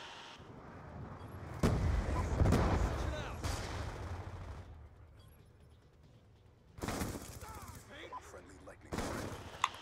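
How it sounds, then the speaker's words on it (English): Bursts of video game gunfire from a competitive shooter, with loud volleys near the two-second mark and again around seven and nine seconds, separated by quieter stretches and a voice talking underneath. "Alright, you're just gonna shoot me through the wall."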